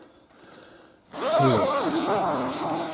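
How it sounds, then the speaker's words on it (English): Zipper on an SUV camping tent being pulled open in one smooth, close run after a brief fumbling rustle of fabric. "See how easy these zippers work?"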